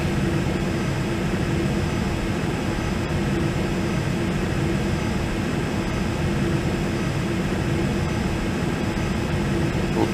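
Jet airliner engines spool up in a flight simulator, a steady, dense roar that holds level for the whole stretch with no voices over it.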